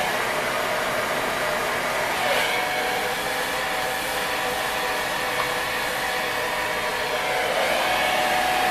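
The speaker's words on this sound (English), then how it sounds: "I don't know if I would ever blow dry my own hair." A hair dryer blowing hair dry, running steadily and loudly throughout with a constant broadband whoosh and slight shifts as it moves.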